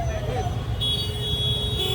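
Vehicle horns blaring in congested Varanasi street traffic, a couple of sustained honks heard close over steady road noise while a person speaks.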